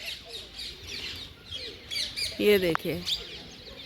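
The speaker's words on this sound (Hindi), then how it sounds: "असंख्य तोते, असंख्य कबूतर" Many parrots and pigeons calling in Vrindavan: scattered chirps and squawks, with a louder burst of calls near the middle, under someone speaking.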